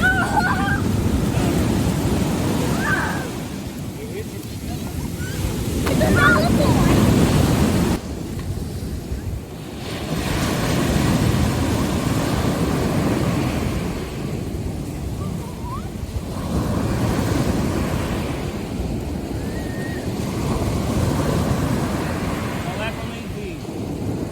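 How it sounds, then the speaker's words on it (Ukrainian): Sea waves surge and wash onto a beach in a broad, continuous roar that swells and eases every few seconds, with wind buffeting the microphone and people talking faintly over it. "Ну диви, яка хвиля йде, Діва."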